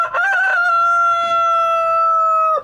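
A backyard rooster crows once, close and loud, a sustained cock-a-doodle-doo with a stuttering start and a long held final note.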